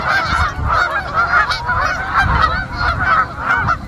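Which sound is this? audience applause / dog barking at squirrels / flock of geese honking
flock of geese honking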